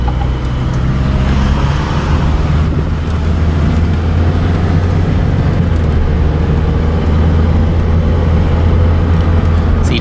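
A 1994 Saturn SL2 on a short drive: steady interior road and engine rumble with low drone throughout, constant and fairly loud without talking.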